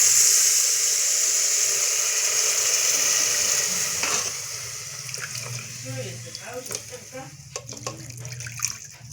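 Water poured into a frying brinjal curry spiced with garam masala, a loud rushing, hissing splash at first that settles into softer bubbling simmer as a voice speaks over it.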